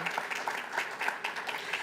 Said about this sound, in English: I think that's worthy of a hand clap.